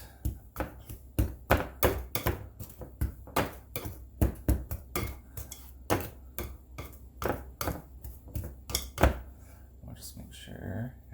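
A pastry blender's metal tines cut cold butter into flour in a mixing bowl for a blackberry peach cobbler, giving a steady run of close, crisp taps and scrapes against the bowl as a voice talks over them.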